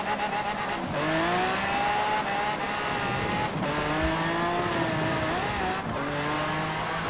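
A Lamborghini Aventador in Forza Horizon 4 drifts on ice, its engine holding a loud, continuous high-revving whine that rises and dips in pitch with brief shifts, up close and alone.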